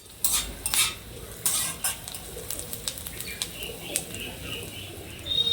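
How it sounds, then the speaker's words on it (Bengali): Onion fries in a pan, its hiss broken by repeated sharp scrapes and clinks of a utensil stirring against the metal. The sounds are close and uneven, with no talking. "পেঁয়াজটা প্রায় ভাজা হয়ে গেছে"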